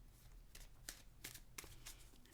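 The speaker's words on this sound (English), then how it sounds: "my method is to just shuffle the deck and wait for cards to pop out" A deck of oracle cards being shuffled by hand, soft riffling bursts repeating every few tenths of a second, quiet and close in a still room.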